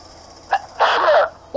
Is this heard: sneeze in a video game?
yes